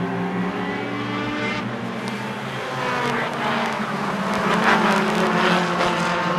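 Mini stock race cars, Hondas and Mustangs, roar around a short oval track in a qualifying heat, a steady dense engine drone with rising and falling pitch as the pack circles, no commentary over it.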